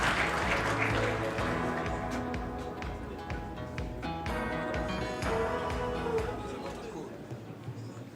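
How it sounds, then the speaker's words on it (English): Loud applause from a crowd fills the space, steady clapping that gradually thins out over several seconds. "Oui, on peut nous applaudir."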